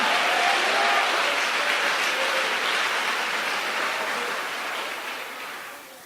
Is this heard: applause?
yes